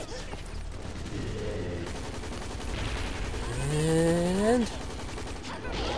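Rapid, continuous gunfire rattles on in the shooter video game Hazrd Ops, dense and sustained, while a voice talks and groans over it.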